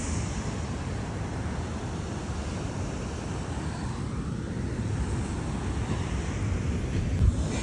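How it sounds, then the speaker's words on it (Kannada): Ocean surf rolls onto a beach where people fish, a broad steady wash of waves under gusty wind buffeting the microphone, continuous and fairly loud with no voices. "ಅಲೆಗಳು ಎಷ್ಟು ಜೋರಾಗಿ ಬಂದು ಹೊಡಿತೈತೆ"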